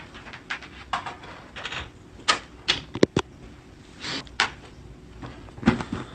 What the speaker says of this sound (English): So let me get my cards.